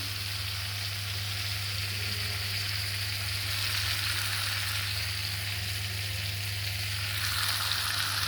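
Chicken pieces marinated in salt, turmeric and lemon juice being fried in spice paste for mustard chicken curry, producing a loud, continuous, even sizzle close by with no talking.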